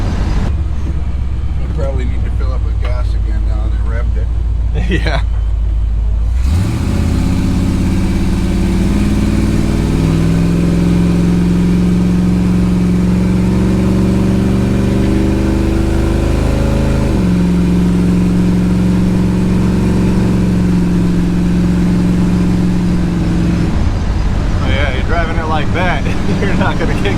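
A 1962 Chevy big block V8 idles roughly at first, then revs up loudly and holds high before dropping back to a rumbling idle, heard up close with brief talk around it.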